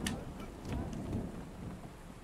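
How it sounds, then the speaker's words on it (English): Rain falls steadily in the Drug Dealer Simulator video game while low thunder rumbles and swells beneath it, with a few sharp drip ticks scattered through the quiet downpour. "And then this rain ain't helping shit."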